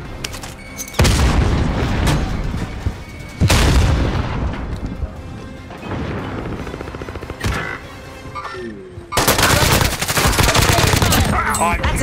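Explosions and heavy gunfire from a Call of Duty: Modern Warfare match after a frag grenade is thrown, with loud booming bursts and rattling automatic fire in several waves, each break followed by a renewed blast.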